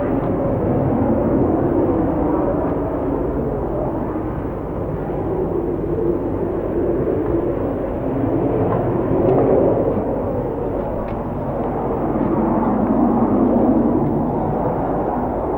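A jet aircraft roars in flight with a steady, loud, broad rumble that swells and eases slightly across the whole stretch, with no voices.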